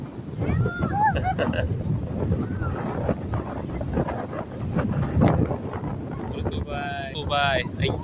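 Strong wind buffets the microphone over crashing waves at the seashore, a rough, continuous roar with people's voices calling and shouting over it.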